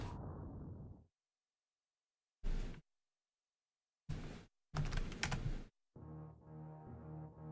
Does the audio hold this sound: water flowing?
no